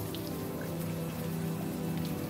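Steady rain falls in the video game Unavowed, a constant close hiss of drops with occasional faint patters and no voices.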